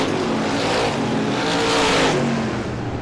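Race cars roar down the front straightaway of a racetrack in traffic, a dense, loud, continuous engine drone swelling and fading as the pack passes, with no voices heard.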